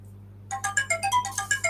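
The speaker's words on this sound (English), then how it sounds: "that's my phone going off telling me it is" A mobile phone alarm ringtone goes off after a brief quiet moment, playing a quick rhythmic sequence of bright electronic beeps over a low mains hum.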